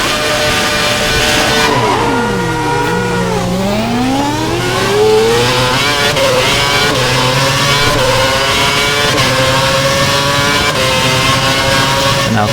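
Formula 1 race car engines in the F1 2011 video game at the China race, loud and close, with a sharp downshift and falling pitch around two seconds, then rising revs as the car accelerates, holding a steady high howl throughout.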